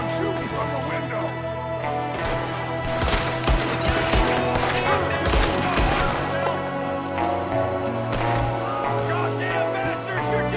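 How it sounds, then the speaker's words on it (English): Gunfire in a Red Dead Redemption 2 shootout, with a shooter firing from a window: continuous rapid shots crack and echo loudly over a steady background drone, rising and falling in intensity. "There's another one shooting from the window!"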